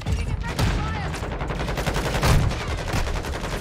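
Rapid Bryson 800 gunfire in Modern Warfare 2, a loud, close, dense burst of shots running throughout with short pauses between volleys.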